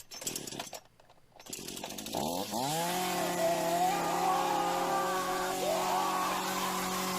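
A chainsaw in a rude-awakening prank, starting with rough pull and sputter sounds, then revving up to a loud, steady, close buzzing drone that holds to the end.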